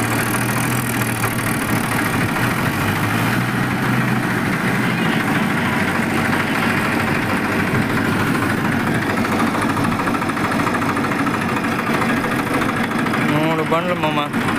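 A tractor engine idles beside a wet, puddled farm field, a steady low rumble with a slight knock that runs unbroken throughout, close by, with people talking over it.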